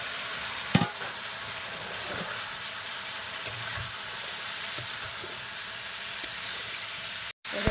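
Fish frying in a pan, a steady, close sizzle that runs on for several seconds with a few faint clicks and knocks from the utensils.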